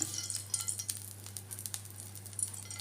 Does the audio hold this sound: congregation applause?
no